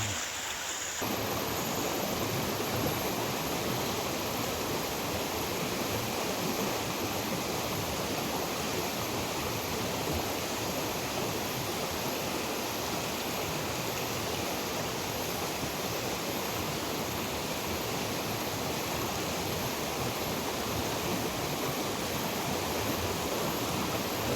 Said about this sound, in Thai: แต่ผมกับมั่วเนี่ยไปถ่ายข้างบนให้ทุกคนดูด้วยนะครับ ว่า กว่าน้ำจะลอดถ้ำมามันเป็นอย่างไรนะครับ